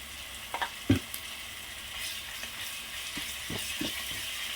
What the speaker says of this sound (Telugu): పచ్చివాసన పోయేదాకా ఫ్రై చేసుకుందాం